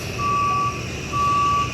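A moving truck backing up gives two long electronic reversing beeps, each about half a second, loud and steady over low engine rumble.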